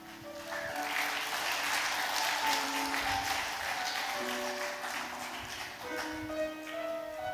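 Sustained applause fills a church during a retirement thanksgiving service honoring retiring deaconesses, many hands clapping steadily over held organ or keyboard tones.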